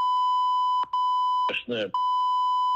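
Steady high censorship bleeps run through a Russian-language rant about Putin, briefly broken where bits of speech poke through between the tones.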